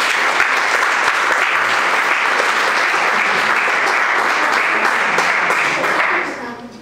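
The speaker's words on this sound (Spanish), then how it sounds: "Un aplauso para ellos." A crowd applauds loudly and steadily for several seconds before the clapping fades out at the end.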